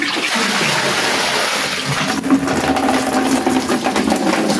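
Water runs in a loud, continuous gushing stream, close by and unbroken, with some splashing texture toward the end and no talk.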